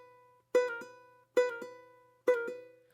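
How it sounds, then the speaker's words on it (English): Plucked ukulele notes with hammer-ons and pull-offs, three short phrases each starting with a hard attack followed by a quick second articulated note, clear and close with no talking. "So the hammer on, you actually hit the string hard."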